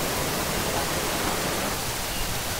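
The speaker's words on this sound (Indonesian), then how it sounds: "Kita sudah sampai air terjun Pengantin." Steady broadband rush of the Pengantin waterfall, a dense unbroken roar heard close and loud throughout, with no voices over it.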